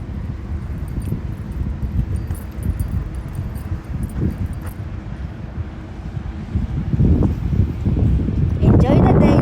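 Strong wind blows outdoors outside a shopping mall, buffeting the microphone in rough, uneven rumbling gusts that build louder near the end, while people talk throughout.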